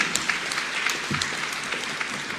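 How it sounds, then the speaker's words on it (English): A crowd applauds at a formal national address at KICC in Nairobi, ahead of remarks by President Ruto and Raila: steady, moderately loud clapping from many hands that carries evenly through the whole stretch. "A round of applause will do"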